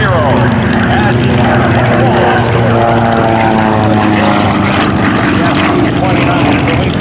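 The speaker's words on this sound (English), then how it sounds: "And he dives in with that Russian aircraft" A Sukhoi Su-29 aerobatic propeller plane diving in flight, its loud engine roar and droning prop pitch shifting continuously, while an announcer talks over it.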